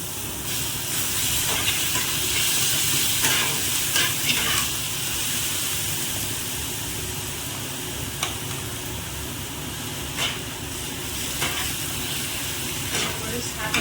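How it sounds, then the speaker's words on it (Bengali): Bottle gourd leaf paste frying over medium heat in a pan, a loud continuous hiss and sizzle with occasional scraping stirs, close up, and a voice faintly audible underneath. "তো এইটা কিছুক্ষণ নাড়তে হবে, মিনিট 5 নাড়তে হবে।"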